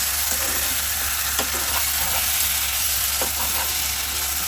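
Chicken do pyaza bubbling and sizzling in a pan, a steady dense hiss with a few soft scrapes of stirring, close and continuous with no voices.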